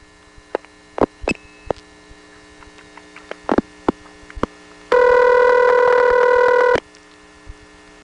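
A 1978 Vermont telephone line, patched by a St. Johnsbury operator into a local trunk, gives a string of sharp dialing clicks over steady mains hum, then a loud buzzing tone for about two seconds.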